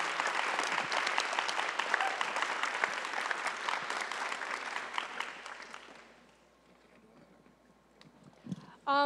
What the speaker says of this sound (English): one more round of applause for Tess Scott